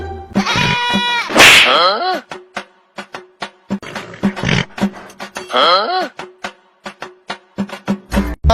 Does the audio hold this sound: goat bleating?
yes